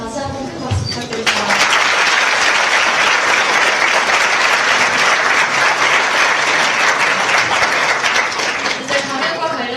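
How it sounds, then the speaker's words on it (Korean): Lecture audience at a university breaks into loud, sustained applause that fills the hall for several seconds, following a brief voice at the start. "뜻깊은 강연을 해주신 안치훈수 연사님께 다시 한번 큰 박수 부탁드립니다"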